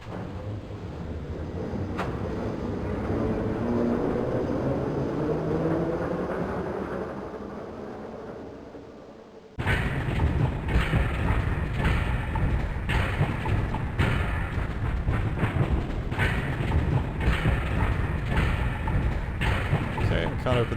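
A monorail ride in the video game Gadget: Invention gives a continuous low rumbling drone. Partway through, it shifts abruptly to a harsher, louder rolling clatter that lasts to the end.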